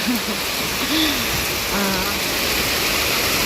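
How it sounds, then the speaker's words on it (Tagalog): Heavy rain pours steadily over a farm with corn and other crops, a loud, dense, unbroken hiss, with a few brief tonal calls rising over it early on. "Ito talaga yung tunay na ulan."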